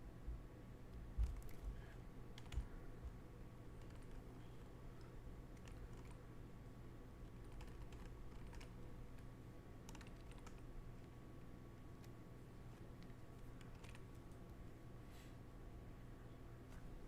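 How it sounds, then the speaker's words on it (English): Quiet, irregular clicking of a computer keyboard as credit card details are typed in, soft taps in short bursts over a faint steady room hum, with no speech. "I'm typing in my credit card information"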